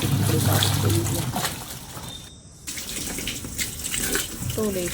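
Running water rinsing muddy clothes, splashing and trickling close by, pausing briefly midway, with voices talking faintly underneath.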